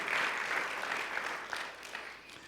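A church congregation claps in praise during a Spanish-language worship service, a dense, steady roar of many hands that fills the room and carries on for the whole stretch without easing.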